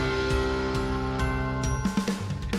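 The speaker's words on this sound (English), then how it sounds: "Sleigh bells ringing here on the Daily Tip" Sleigh bells jingling in a bright, sustained shimmer with rhythmic shakes, loud and close over a tonal musical background.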